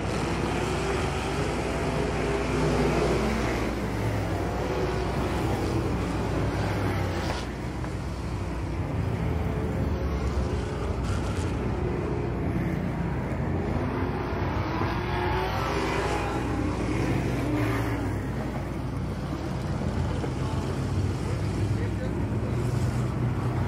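V8 street stock race cars roar around an oval dirt track, engines droning loud and constant as the pack runs side by side, under continuous excited commentary.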